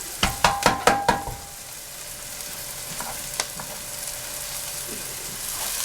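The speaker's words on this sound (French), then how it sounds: "Je laisse un peu mijoter les oignons." Onions simmering in a pan while beans are cooked, with a burst of sharp knocks or stirring taps at the start, then a steady soft sizzle with occasional clinks.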